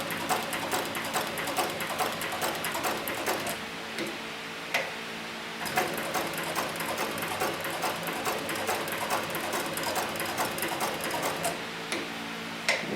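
A sewing machine stitches leather in a steady, rapid mechanical ticking rhythm that runs loud and close throughout, with a brief pause or two as the stitching continues.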